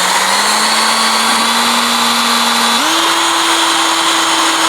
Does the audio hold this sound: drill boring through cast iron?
yes